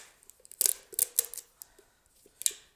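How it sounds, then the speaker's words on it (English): Scissors cutting the label off a plastic bottle, giving a few close, crisp snips and rustles of plastic in quick bursts, with faint handling sounds between cuts. "I'm going to cut off this label"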